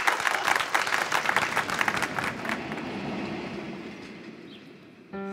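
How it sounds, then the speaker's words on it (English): Studio audience applause for a model railway team on a competition show, a burst of lively clapping that tapers off over a few seconds into quiet room tone, with a short tonal sound at the end. "Well, give them a round of applause."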